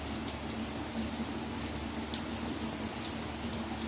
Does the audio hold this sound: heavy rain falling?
yes